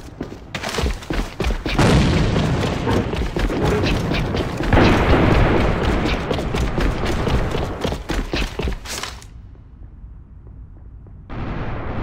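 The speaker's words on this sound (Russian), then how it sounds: "Бросаю гранату." A grenade explodes in a video game match: loud, chaotic explosions and bursts of booming gunfire, dense and rumbling, then a sudden quiet before a final blast.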